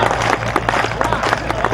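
Audience clapping at a Hindi poetry recital (mushaira) in Samastipur, a steady dense patter of many hands kept up through the whole stretch at moderate loudness, with voices faintly mixed in.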